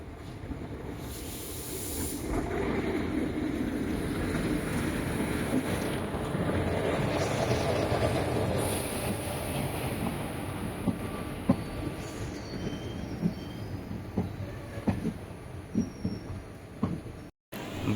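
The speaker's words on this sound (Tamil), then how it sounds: "so Rameswaram Chennai Boat Mail express வந்துட்டுருக்கான்" The Rameswaram–Chennai Boat Mail Express rolls into a station platform with a steady rumble of wheels on rail and a hiss of brakes that fades toward the end.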